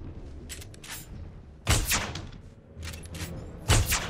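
Tranquilizer gun shots fired at a large dinosaur in the Jurassic World Evolution video game: two sharp, loud thumping shots about two seconds apart, with faint clicks and low game ambience between them.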